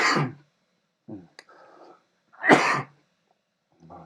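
Several sharp coughs in a quiet room, loud bursts at the start and again near the middle, with a few softer throat noises between them.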